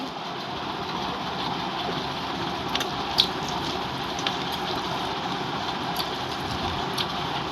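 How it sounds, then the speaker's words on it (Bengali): Steady rain falling outside a home, a dense even patter with a few louder drips standing out, no voices. "দুদিন ধরে বৃষ্টি হচ্ছে"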